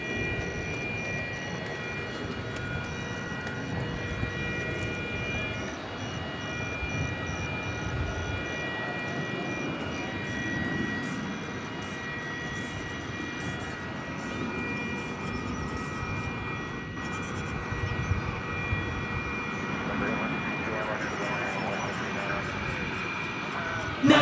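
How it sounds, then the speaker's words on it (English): A Beech 1900C twin-prop plane arrives at DFW airport after dark, a steady, moderately distant turboprop drone that holds level throughout. "Next to arrive, Ameriflight Flight 1721, a Beech 1900C"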